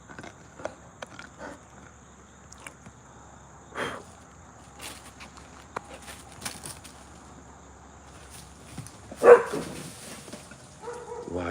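A dog barks at a stick in a few scattered, fairly faint yips and barks separated by quiet gaps, with one louder burst near the end.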